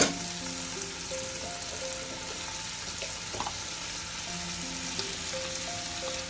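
Ground spices fry with tomato and onion in a pan for a lote fish jhuro, a continuous soft hissing sizzle at moderate level with occasional faint clinks, close and without talk.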